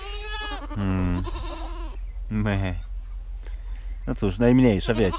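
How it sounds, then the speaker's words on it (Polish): A domestic goat bleats loudly several times at close range. A voice breaks in between the calls. "Najgłośniejsza jesteś, domowa koza."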